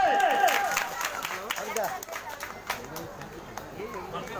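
Audience at a Bengali stage show breaks into loud, sustained clapping mixed with cheers and crowd noise, a dense wash that holds for several seconds and slowly thins.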